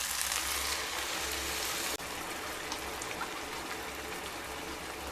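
Milk pours into a pot of cooking chicken pish pash in a continuous close splashing trickle that breaks off briefly, then resumes softer.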